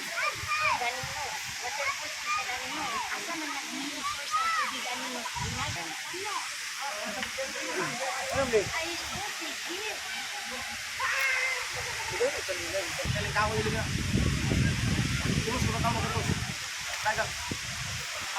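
Sagpulon Falls rushes in a continuous broadband roar and hiss of falling water. People talk over the steady torrent throughout.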